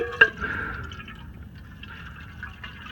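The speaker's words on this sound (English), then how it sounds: "and letting the oil into the bucket" Engine oil draining into a bucket: a short splash at the start, then a faint, steady trickle of liquid running on, close but quiet.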